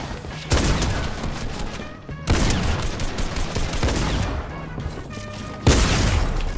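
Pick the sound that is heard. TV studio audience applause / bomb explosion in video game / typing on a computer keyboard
bomb explosion in video game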